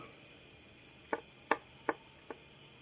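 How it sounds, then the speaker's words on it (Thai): Pestle pounding makwaen spice and kaffir lime peel in a mortar for a northern Thai curry paste, four distinct thuds spaced about half a second apart, fairly close and alone over quiet background. "มะแขวนนี่ เราโขลก ให้ ละเอียดเลยนะครับ"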